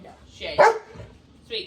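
A dog gives a couple of short, sharp barks, one louder at the middle and a fainter one near the end, with a person speaking briefly between them in a home with several dogs.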